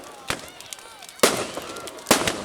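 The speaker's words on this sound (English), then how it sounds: "There's a massive fireworks going off now. Multicolour, big rockets." Big multicoloured rocket fireworks burst at a bonfire night display in Whiting Bay, three sharp booming explosions spaced about a second apart and rumbling on among background crowd noise.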